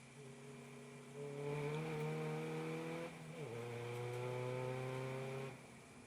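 Race car engines drone at the Brands Hatch GP circuit during an MSVT SuperCup race, a sustained high-pitched whine whose pitch climbs and dips as the cars shift and pass. The sound is moderately distant and fairly faint, with no talk.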